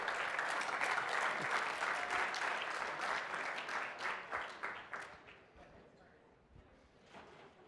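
An SXSW Interactive 2013 accelerator awards audience applauds the finalists with dense, sustained clapping. It thins and fades over the last few seconds, leaving a few scattered claps and some talk.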